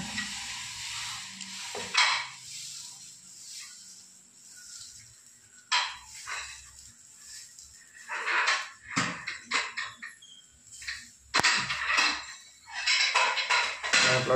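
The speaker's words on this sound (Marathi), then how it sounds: "आपला डोसा तयार होत आहे" Masala dosa batter, softened with baking soda, cooks on a hot tava. Soft sizzling comes in irregular bursts, with spreading and scraping scrapes between quieter pauses, close by and without speech.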